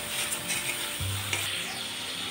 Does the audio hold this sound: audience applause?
no